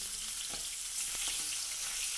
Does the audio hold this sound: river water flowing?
no